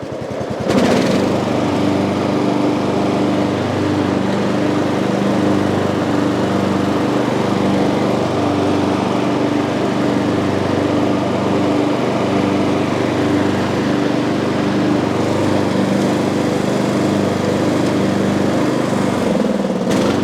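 A car engine idles steadily and loud throughout, a smooth even drone with a faint regular pulse, no talk over it.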